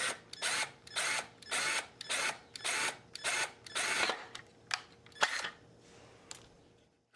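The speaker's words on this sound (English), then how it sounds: "use a drill just to open up that plastic hole" A power drill bores through a plastic hole on a bumper bracket of a 2015+ Mercedes C300 W205, running in a string of short whirring bursts with brief pauses, close and fairly loud, tapering into a final few quick spins.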